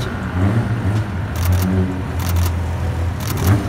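A BMW 328 rolls through Paris traffic on a bus lane, its engine rumbling in repeated low surges as it passes, amid street noise with a few sharp clicks.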